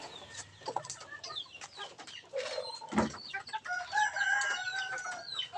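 A flock of chicks under a month old clucks and peeps softly nearby, with a sharp thump midway and overlapping small chirping calls.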